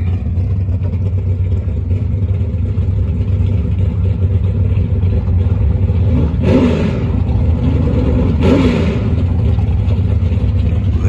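Loud, continuous engine roar with two sharp revving bursts partway through, Mopar racing car engines throttling up close by at a night race.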